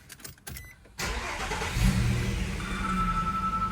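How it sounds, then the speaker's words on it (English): A 2010 Nissan Frontier truck engine cranks and catches, then settles into a steady mid-pitched idle with a slight rev, close by and fairly quiet, with no talking. "Now we're gonna turn this truck on"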